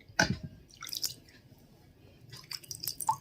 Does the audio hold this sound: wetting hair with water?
yes